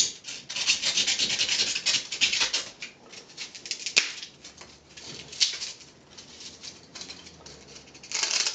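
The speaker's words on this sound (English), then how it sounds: "just gonna take a X-Acto knife, more or less cut out" An X-Acto knife cuts along a line through a paper mache oviraptor sculpture, giving close, dry scraping and rubbing strokes in uneven bursts with short pauses between them.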